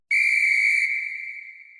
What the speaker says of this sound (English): She blows the magic whistle,